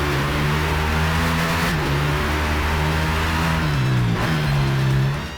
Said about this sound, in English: they have nailed the grunt of a roaring Ducati engine